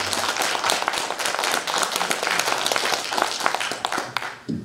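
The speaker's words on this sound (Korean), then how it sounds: "강사님께 다시 한번 큰 박수 보내주시기 바랍니다" An audience at a lecture claps steadily in dense, sustained applause that fades out at the end.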